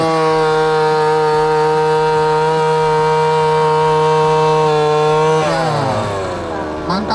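A motorized single-operator earth auger drill bores holes in soil around trees, a loud steady two-stroke engine whine holding constant pitch, then dropping and bogging down near the end as it digs.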